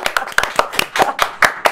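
Several people seated beside a talk-show host clap in a quick, uneven burst of sharp hand claps, close and fairly loud, with no talking over them.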